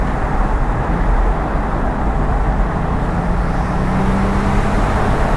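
A 2008 Porsche 911 Turbo in Metallic Walnut drives on the road, heard from inside as a steady low engine drone mixed with road and tyre roar, constant and fairly loud with no talking.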